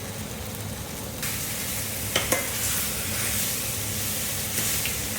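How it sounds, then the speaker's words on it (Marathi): Mutton fries for yakhni pulav with a steady, close hissing sizzle, broken by a couple of sharp scrapes and clicks of a utensil against the pot, continuous throughout and without voices. "आता आपलं मटण पण छान फ्राय झालेलं आहे."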